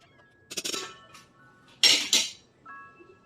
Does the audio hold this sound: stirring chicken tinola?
yes